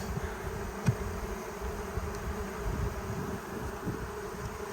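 Bees buzzing around hives, a steady low hum of many insects close by with a few brief louder passes, continuous and alone with no talking.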